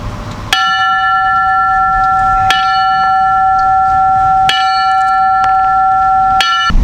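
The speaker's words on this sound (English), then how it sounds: "we will ring the bell in a last alarm tribute" A bell rung in a 9/11 last alarm tribute at a remembrance ceremony, struck four times at about two-second intervals, each clear metallic strike ringing out with long sustained tones between.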